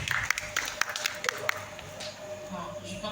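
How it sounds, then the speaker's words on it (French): Audience applause for the a cappella group Authentique at a spoken-word evening, a patter of claps concentrated early and fading out, mixed with room noise and voices. "On applaudit pour Authentique"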